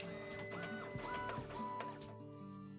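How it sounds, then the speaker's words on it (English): A printer runs in the Toy Tinker Simulator video game, giving a busy mechanical whirring with rhythmic clicks and pitched motor sweeps, steady and moderately loud, then settling into a quieter hum. "Send it back to the printer."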